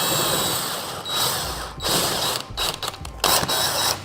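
Large bolts are fitted and tightened on a seat backrest, with bursts of ratcheting and mechanical clicking, close and fairly loud, separated by short pauses and handling noises.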